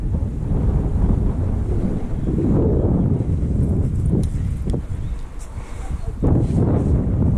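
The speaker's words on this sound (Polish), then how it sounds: "Wieje wiatr" Continuous gusty wind buffeting the microphone at an abandoned hospital boiler house, a low rumbling roar that rises and falls throughout.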